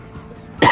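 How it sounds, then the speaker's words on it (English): A single short, sharp cough bursts out near the end after a quiet stretch, close and fairly loud. "Cough cough."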